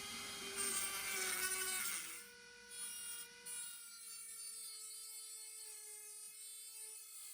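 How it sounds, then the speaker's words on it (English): A Dremel rotary tool cuts rust out of the body of a Mercedes R107, giving a steady high whine with grinding grit that dips briefly then holds a thinner tone, close and moderately quiet. "I'm hoping that the Dremel tool is basically going to allow us to get into these little gaps here and cut out these really intricate things"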